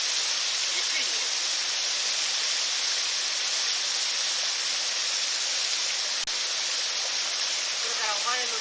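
A waterfall used for waterfall purification training pours in a loud, constant roar close by, with faint voices barely showing through the rush.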